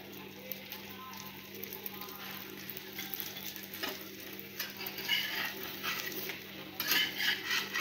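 Oil sizzling and crackling under a Maharashtrian Nagari-style utappa cooking in a pan, a soft steady fry with occasional scraping and utensil clinks, fairly quiet and close.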